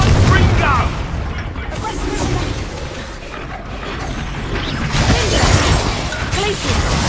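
Confringo fire spell blasts in Hogwarts Legacy, a loud crashing explosion at the start followed by further booms, cracks and shattering bursts through the combat, with speech mixed in.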